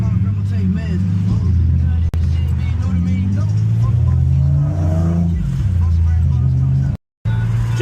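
Infiniti G35 engine pulling under acceleration while driving through smoky Toronto streets, a steady low drone with rising and falling pitch as revs climb, heard close from inside the car with talk over it and a brief dropout near the end.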